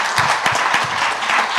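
A church congregation at a Sunday celebration service applauds together, a dense, steady burst of clapping close and loud for the whole short stretch, with a faint murmur of voices underneath.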